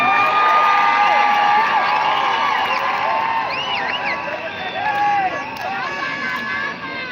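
A crowd cheers and whoops for the President, loud and lively with shouts and babble throughout, easing slightly toward the end.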